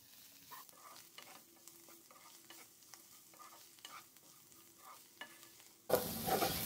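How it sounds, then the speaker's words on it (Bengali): Dried shrimp are stirred and fried in a pan over a raised flame, a quiet, soft sizzle broken by rhythmic spatula scrapes, ending in a sudden loud burst of noise. "চুলার ফ্লেমটা একটু বাড়িয়ে দিয়ে নেড়ে চেড়ে ফ্রাই করে নিচ্ছি"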